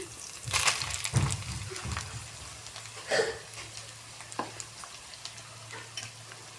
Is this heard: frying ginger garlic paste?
yes